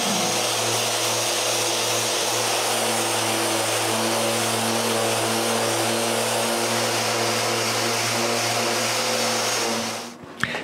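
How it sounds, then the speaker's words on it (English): Steady, loud power sanding of wooden chest-of-drawers frame stiles to remove pencil marks in a woodworking shop, a continuous droning whir that runs unbroken for about ten seconds before winding down abruptly at the end. "Then I sand all the pencil marks."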